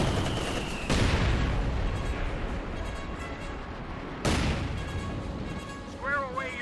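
An artillery time-on-target barrage in Company of Heroes 2 lands as two heavy, booming impacts with rumbling tails, heard under continuous commentary with battlefield noise in the background.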